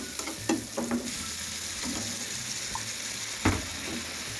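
Salt, turmeric, mixed masala and red chilli powder being sautéed in a pan, a soft continuous sizzle broken by a few close scraping strokes and light knocks of a spoon.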